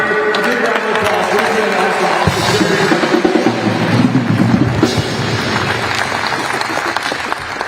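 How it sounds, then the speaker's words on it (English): An audience at a coach introduction event breaks into applause, a dense, continuous wash of clapping and crowd noise that swells and holds for several seconds, loud and close. "give yourselves, for everything we've gone through, a big round of applause."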